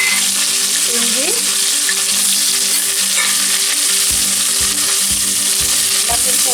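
Cinnamon, cloves, onion, garlic and ginger fry loudly in a pan for a chicken gravy, with a steady close sizzle and, later on, a series of rhythmic knocks from a utensil stirring against the pan.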